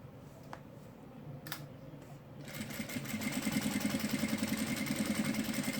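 A sewing machine stitches fabric for a trapeze dress. A few faint clicks come first, then the needle starts a steady, rapid, close mechanical whirr that runs to the end.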